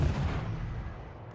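Naval guns firing in World of Warships, a single deep rumbling boom that fills the short moment and slowly decays, with no talking over it.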